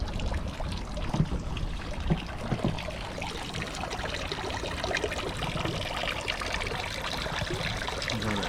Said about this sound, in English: the water starts flowing out of the motor